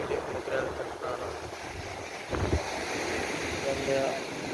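Wind and surf at Mogral beach roll in as a broad rumbling wash with gusty microphone buffeting, one stronger surge midway, and faint voices in the background.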